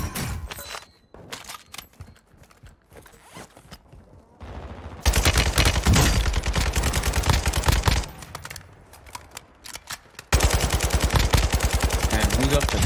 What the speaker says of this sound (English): Wow, but who's shooting me from behind?